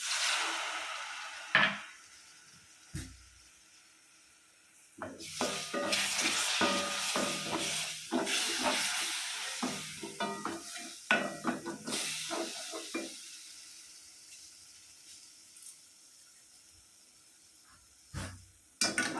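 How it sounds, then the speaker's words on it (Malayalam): Date pickle sizzling and bubbling in a pan after tamarind water is poured in, with stirring scrapes and clatter over a steady hiss that fades toward the end. "ഞാൻ കുറച്ച് പുളിവെള്ളം ഒഴിച്ച് കൊടുക്കുന്നുണ്ട്"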